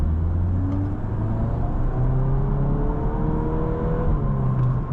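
A 2024 Volkswagen Golf R's turbocharged engine pulls hard under acceleration, a steady loud drone with rising tones sweeping upward and a faint turbo whir above a constant low cabin rumble.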